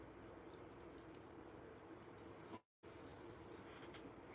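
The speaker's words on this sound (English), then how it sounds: "I'm typing at the same time." Soft, rapid clicking of a computer keyboard being typed on, faint and steady with irregular key taps, during a live charity stream, with a brief dropout partway through.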